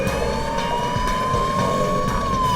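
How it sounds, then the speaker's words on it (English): An ambulance siren wails continuously over a loud engine and road rumble as the vehicle closes in on a gang's van, its pitch sliding slowly upward then dropping at the end. "An ambulance loaded with SWAT personnel approaches the gang's van and attempts to disable the vehicle by ramming it."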